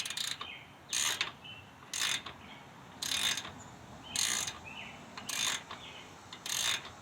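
Ratcheting clicks in short regular bursts, about one per second, from a Fulton trailer winch spinning freely after its thread is stripped, fairly quiet with faint background noise.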